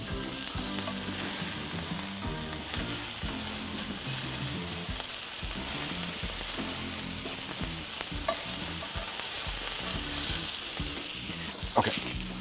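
A heart sears in a hot pan, giving a steady, loud, close sizzle that crackles continuously and is stirred now and then, with no voices over it.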